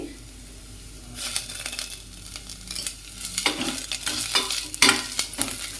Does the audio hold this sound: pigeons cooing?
no